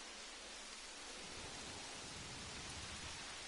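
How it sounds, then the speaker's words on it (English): Steady rainfall in the dinosaur park-building game Jurassic World Evolution, a soft, even hiss of rain that holds unbroken throughout, quiet and alone with no talk. "Why did it start raining"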